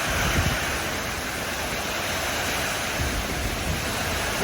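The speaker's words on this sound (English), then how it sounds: "stuck in the rain." Heavy rain in a massive thunderstorm while motorcycle travellers shelter on a road in Vietnam, a steady dense hiss of downpour, close and continuous, with no talk.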